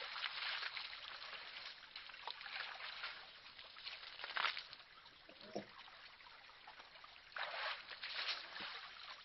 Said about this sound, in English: It's the sound of falling water